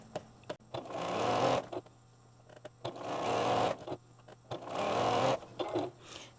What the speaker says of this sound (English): Remember, we're sewing these on the long edges.